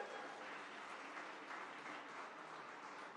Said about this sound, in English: There's going to be a lot of applause during this speech